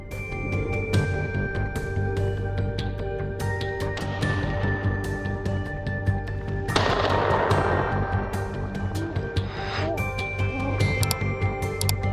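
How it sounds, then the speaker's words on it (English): Rifle fire at a wild hog on a farm hunt: sharp, close cracking reports scattered through a steady, busy background, with one denser burst of noise near the middle. "At that close range, it only took one clean shot for him to drop it."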